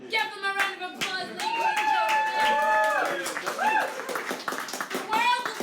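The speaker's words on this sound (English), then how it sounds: "just give them a round of applause." An audience gives a round of applause after a pop art performance, scattered sharp claps running throughout under voices and children's chatter.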